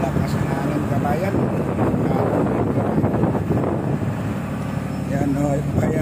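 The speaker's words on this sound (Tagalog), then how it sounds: "Malakas ang hangin kabayan." Strong wind buffets and roars across the microphone, with a voice talking over the rushing noise.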